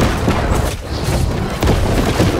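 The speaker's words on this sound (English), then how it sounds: "siege cannon there" A siege cannon fires during a battle in the video game New World, with loud, dense booming and rumbling filling the scene and blasts layering over one another.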